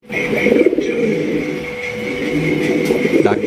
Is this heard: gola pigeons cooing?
yes